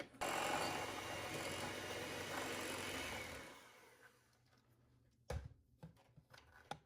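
An electric mixer beats Kerrygold butter into pistachio frangipane batter, a loud steady whir for about three and a half seconds that winds down, followed by a few knocks and clatters.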